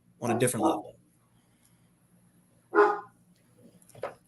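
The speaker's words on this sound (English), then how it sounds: "The dog agrees." Dog barking in short bursts, a loud cluster near the start followed by two separate barks later, with quiet gaps between.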